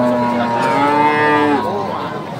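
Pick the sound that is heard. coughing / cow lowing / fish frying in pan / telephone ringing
cow lowing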